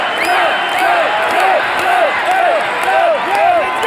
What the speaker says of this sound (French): Vous pouvez entendre la foule